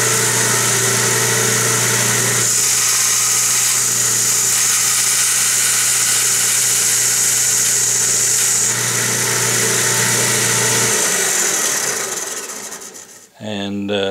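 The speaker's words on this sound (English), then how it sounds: "I got my Delta belt and disc sander," A Delta belt and disc sander grinds down a plastic servo arm on its belt: a loud, steady motor drone with abrasive rasping that runs for about eleven seconds, then winds down and stops.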